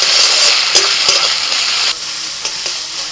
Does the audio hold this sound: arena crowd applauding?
no